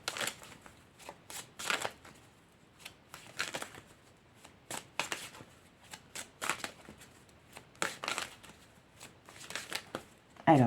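Divine Muse Oracle cards are shuffled and drawn by hand in a quiet room, giving irregular bursts of soft flicking and riffling that come and go alone, with no talk.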